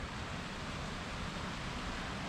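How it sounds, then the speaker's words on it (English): Steady roar of a waterfall beside a riverside path at Edzell, Scotland, a dense unbroken rush of falling water close by with no voices over it. "We've got an incredible waterfall at the other side."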